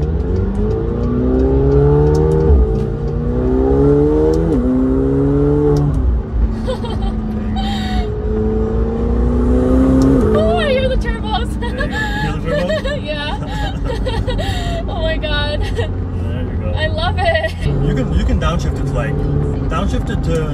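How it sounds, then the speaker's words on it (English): A McLaren 720S accelerating hard on a road and downshifting, its engine note climbing in rising sweeps and then dropping between gears, loud and close, with people talking over the engine throughout. "this is the road where you can give it a little bit of gas."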